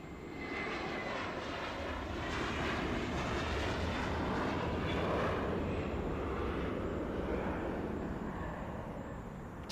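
A JetBlue airliner takes off at Los Angeles, its jet engines a loud, steady broadband roar that swells slightly mid-way and holds strong throughout, with no voices over it.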